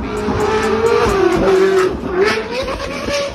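A white Ferrari roars loudly through a service area, its engine note rising and falling in sustained revs, with a brief tire squeal, all close and loud.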